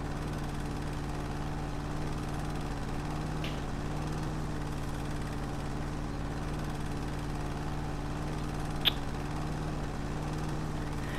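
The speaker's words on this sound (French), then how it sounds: "c'est vrai que ça fait pas mal de décibels une tondeuse hein" Steady low engine drone of a lawn mower in the House Flipper garden game, running continuously and evenly throughout with a faint click near the end.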